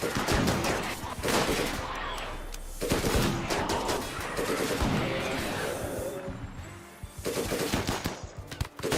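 Rapid automatic gunfire from a turret in the RimWorld video game, with dense, loud bursts of shots that pause briefly and then resume across the whole stretch.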